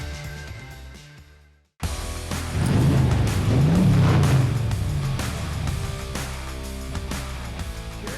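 A 1963 Chevrolet Corvette split-window coupe rolls in at an auction, its engine a steady, loud rumble that swells and then eases slightly. It sounds close, with no talk over it, after a brief near-silence at the start.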